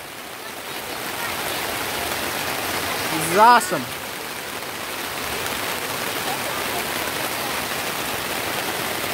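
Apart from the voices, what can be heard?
rain falling at a campsite during a storm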